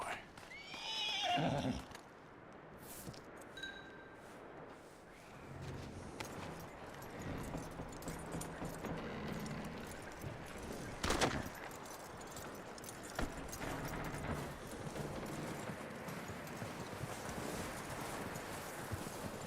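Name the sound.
horse neighing and hooves clip-clopping in Red Dead Redemption 2 video game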